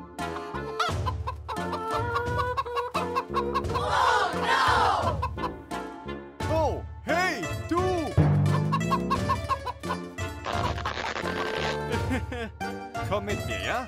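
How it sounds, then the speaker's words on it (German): Chickens cluck and squawk in bursts, with loud, excited voices and children's talk overlapping the birds across the whole stretch. "Hühner."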